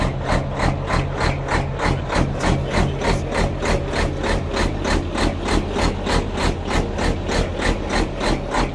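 A 1952 Kenworth race truck engine idles loud and close, with a steady, even, loping rhythm of regular pulses throughout.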